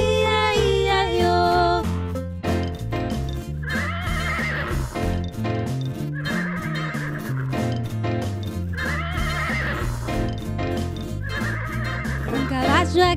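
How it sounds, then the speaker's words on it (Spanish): Horse neighs ring out inside a bouncy Spanish-language version of the children's song Old MacDonald Had a Farm, repeated whinnies riding over the music and a steady beat. "Y en su granja vi un caballo."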